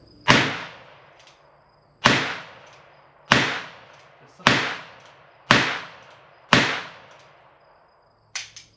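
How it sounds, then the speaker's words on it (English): Six loud, sharp gunshots from a single action .22 revolver fire at a steady spaced rhythm, each ringing out with a short decaying tail, followed by a fainter click near the end. "it's just such a fun revolver to shoot"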